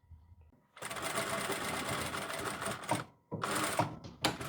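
Sewing machine running fast as it backstitches the hem of a woman's dress shirt, a steady close mechanical whir lasting a few seconds, a short pause, then another burst of stitching with no talk.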